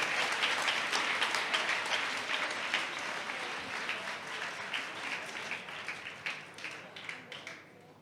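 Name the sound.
loud applause from the audience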